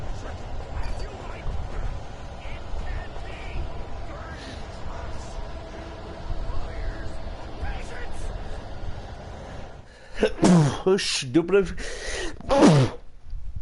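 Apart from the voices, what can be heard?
sneezing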